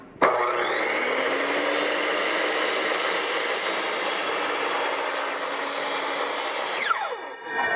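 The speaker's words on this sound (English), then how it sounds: "we're going to just do a cut here just to test the saw, see how the blade is" A saw makes a steady test cut through cedar decking boards, a continuous loud whine with a grinding bite that runs for about seven seconds before spinning down at the end, with no talking.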